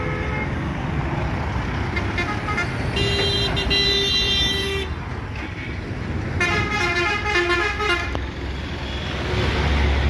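Horn of a road bus carrying an Odia jatra theatre troupe toward Cuttack, sounding in two sustained honks over a steady rumble of engine and traffic noise.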